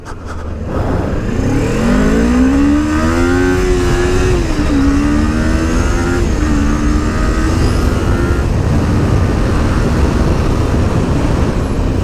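A car engine revs up loudly and close, the pitch climbing and shifting as it accelerates, then holding a strong steady roar.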